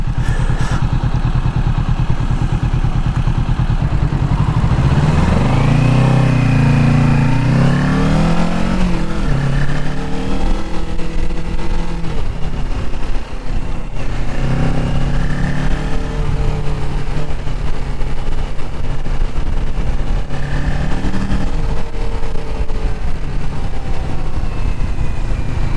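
Kawasaki Ninja 650 motorcycle engine running steadily while riding, loud and close throughout, with rising and falling revs as the bike accelerates and shifts gears.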